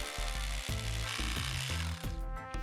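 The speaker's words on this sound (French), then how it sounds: "et pour cela, on perce 2 trous" A power drill bores two holes into broken masonry stone above a turret, preparing it for reinforcing bars: a loud, close motor whine broken by a regular rhythm of pulsing bursts as the bit bites into the stone.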